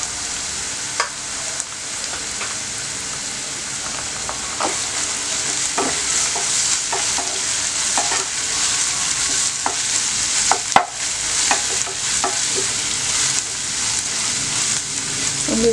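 Ginger garlic paste sizzles loudly in an oiled pan for a chicken liver and gizzard gravy, a continuous hiss punctuated by repeated spatula scrapes and clinks as it is stirred, without any talking.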